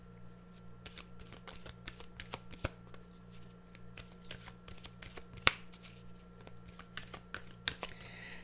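Animal oracle cards are shuffled close up in a steady stream of soft riffling flicks and taps, with a low hum in the background and no talking.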